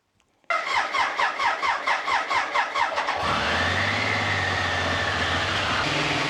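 Royal Enfield motorcycle engine starting: a rapid cranking chug of the starter, then the engine catches and settles into a loud, steady idle rumble close by.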